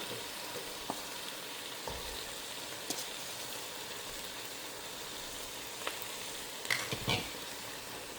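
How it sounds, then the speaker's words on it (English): Garlic and ginger frying in a pan for vegan ramen, a quiet steady sizzle with a few clicks and scrapes of stirring, close and without talk. "I'm now going to throw in my garlic and ginger"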